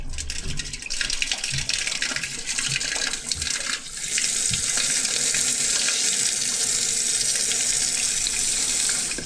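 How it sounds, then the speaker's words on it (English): Water pours from a faucet to rinse a clogged drain, first with scattered knocks and splashes, then settling into a loud, steady hissing rush of running water for the rest of the clip. "I'm gonna try to rinse this a little bit."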